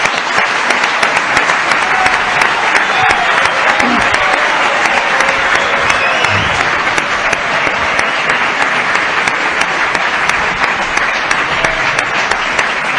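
A television studio audience applauds a guest, the president Augusto César Lendoiro, in a 2009 interview: dense, steady clapping fills the clip at even loudness with a faint murmur of voices underneath.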